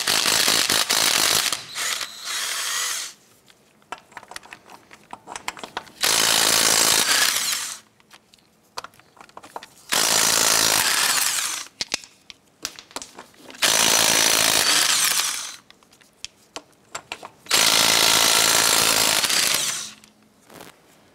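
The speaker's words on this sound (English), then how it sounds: "Using a 19 millimeter socket, go ahead," Lug nuts on a 1994-2004 Chevy S10 front wheel being loosened and removed with a 19 mm socket, heard as several loud bursts of whirring power-tool rattle separated by quieter gaps, up close with no speech.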